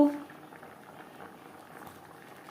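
Dal cooks with vegetables in a pot, a low, quiet, steady bubbling that runs throughout after a brief louder knock at the start.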